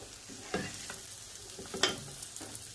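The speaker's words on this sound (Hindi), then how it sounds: "बंद गोभी जो फ्राई की थी वो सब्जियां सारी जो फ्राई की थी सारी डाल दी" Sliced cabbage and mixed vegetables being tossed in a pan for vegetable fried rice give a faint sizzle with a couple of sharper stirring clatters, close but quiet.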